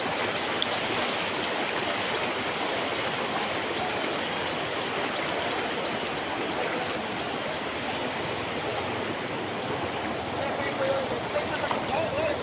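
Fast floodwater rushing through a flooded area of Hailakandi during the 2025 floods, a dense continuous roar of churning water close by, steady throughout with faint voices underneath.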